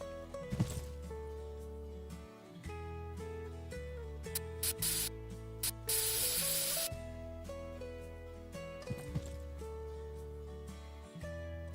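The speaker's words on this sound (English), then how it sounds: "One of these cans is WD-40." WD-40 sprayed from an aerosol can during a cheap car repair near a removed muffler, a hiss of a couple of seconds in the middle among clattering and shuffling workshop noises.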